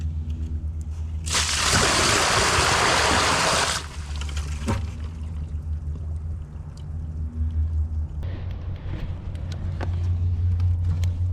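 Water poured into a sinkhole in a front yard, starting as a loud rushing gush for a couple of seconds, then easing to a softer trickle and sloshing over a steady low rumble.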